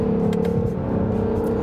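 A 2019 Acura NSX in track mode accelerates hard, its engine giving a brief, loud, rising hum heard close up from inside the car.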